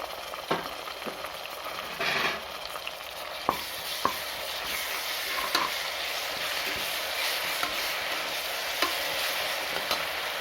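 Ginger garlic paste sizzles steadily in a hot pan while being stirred for vegetable biryani, with an even crackling fry and occasional scrape of the spoon, close and unbroken, no talking.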